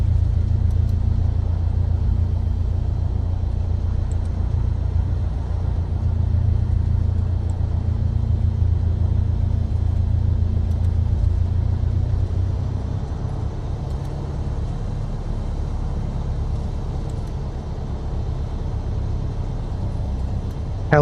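Just after start-up, a light aircraft's engine idles in the MSFS 2024 flight simulator as a steady low rumbling drone, which eases slightly partway through.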